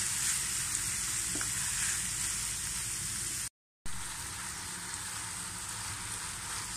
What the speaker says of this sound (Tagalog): Mix lang po natin siyang mabuti guys.